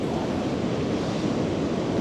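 Sea waves washing around a rock on the coast, a steady loud broadband rush of surf close to the microphone with wind noise mixed in and no talk.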